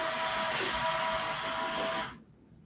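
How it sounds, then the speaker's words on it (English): A steady, broadband whooshing roar of a vacuum cleaner runs close by, then cuts off abruptly near the end, leaving quiet. "let me turn off my vacuum."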